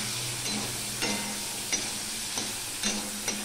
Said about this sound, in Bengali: সেই জন্য চিংড়ি মাছটা আমি হালকা করে ভেজে নেব।